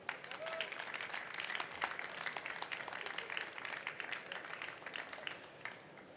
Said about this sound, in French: Et on peut les applaudir une nouvelle fois.